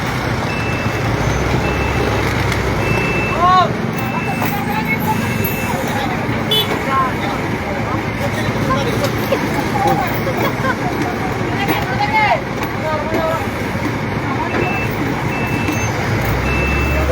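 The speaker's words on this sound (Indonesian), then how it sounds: "ini sedang berusaha ditarik menggunakan dam truk agar mengurai kepadatan" A dump truck works to tow a crashed truck after a head-on truck collision at the Simpang Sakatiga junction. Steady reversing beeps pulse throughout over loud engine rumble, road traffic and crowd chatter.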